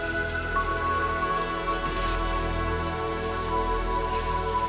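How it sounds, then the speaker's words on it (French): Steady heavy rain falling on hard surfaces in a night scene from the film Blade Runner, a dense continuous hiss with a low rumble underneath, constant and close, with no voices over it. "Roy Batty s'éteint sous la pluie"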